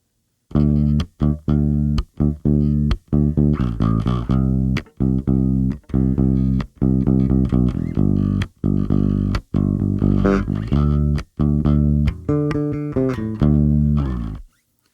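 A punchy electric bass line on the low string chugs through steady three-chord rock rhythms, notes repeating in short bursts with brief gaps, loud and close, no voices.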